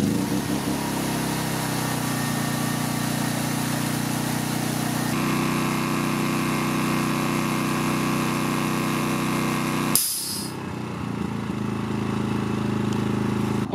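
A small 3000-watt Maxpeedingrods inverter petrol generator drones steadily with a Parkside air compressor's deeper mechanical hum layered in, then changes abruptly near the end as the compressor load cuts off and the engine keeps running.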